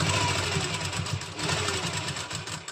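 A sewing machine stitching small double stitches on a lined kurti, a rapid rhythmic mechanical chatter running continuously at close range for a few seconds.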